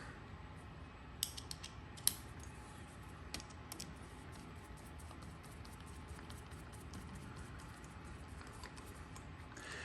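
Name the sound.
tightening screw to lock rail on rifle barrel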